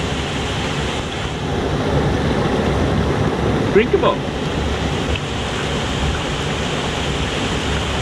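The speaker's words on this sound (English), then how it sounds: "We are at a beautiful spot with the waterfall too." A waterfall near a parked Unimog gives off a steady, even rush of falling water that fills the whole scene, with a voice briefly speaking over it.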